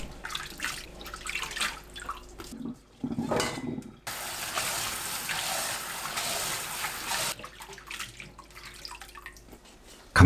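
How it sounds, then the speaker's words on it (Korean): Water gushes and splashes as cut potato strips, about 0.5 to 0.7 cm thick, are rinsed, with a steady stream from a tap broken by brief pauses and shifting splashes. "물에 헹굽니다."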